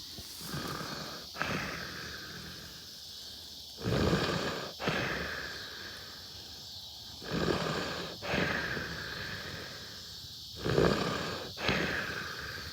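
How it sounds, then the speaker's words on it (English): A sedated breeder buck deer snores in slow, heavy, rhythmic breaths, each snort-like inhale rising at regular intervals, close and fairly quiet with no talking. "you guys can listen to him snoring."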